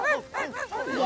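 Pet dogs at a family birthday gathering in Pucón let out a run of short, arching yelps and whimpering barks, loud and close, in quick succession across about a second.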